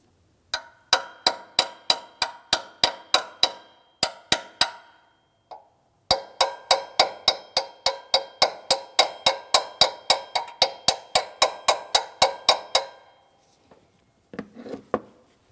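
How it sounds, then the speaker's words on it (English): Small hammer tapping alternator bracket bushings outward toward the front of a 6.0L V8 engine in a 2007-2014 GMC Sierra 2500 HD, sharp metallic taps in rapid steady runs, several bursts with short pauses, close and alone. "we're going to use a small hammer and tap these outward towards the front of the engine."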